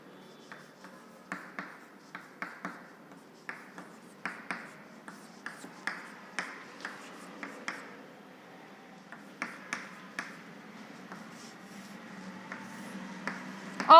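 Writing on a board during a lecture on RLC circuits produces a faint, quiet series of sharp taps and soft scratching strokes in an irregular rhythm, with no voice over it.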